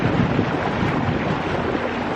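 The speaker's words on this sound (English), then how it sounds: "so much surf and there's just big spray coming up" A sailboat near a reef passage: continuous roaring surf and wind buffeting the microphone, with water rushing and spray close by and no voices.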